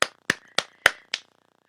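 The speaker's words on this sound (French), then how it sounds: "On applaudit." Five crisp hand claps at a steady, slightly slow rhythm, close and dry with brief gaps of silence, ending abruptly.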